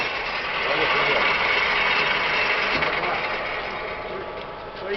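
A 6T82G horizontal milling machine table traverses at rapid feed, a steady broadband mechanical whir and grind that swells and eases over a few seconds, with voices talking underneath.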